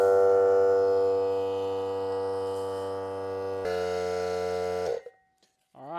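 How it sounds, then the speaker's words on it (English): A small portable air compressor runs steadily as it pumps up a supermoto motorcycle tire, a loud continuous droning hum with a strong pitched tone that shifts slightly partway through before cutting off abruptly, followed by a brief hiss. "to air the tire up, I'm just going to use a little air compressor."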